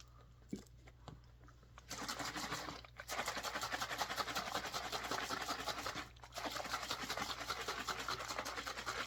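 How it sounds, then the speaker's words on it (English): A mix of fruit, honey and water for mead is stirred by hand in a vessel, producing close rhythmic scraping and swishing that begins after a quiet start and runs on steadily with a short pause. "we're just going to stir."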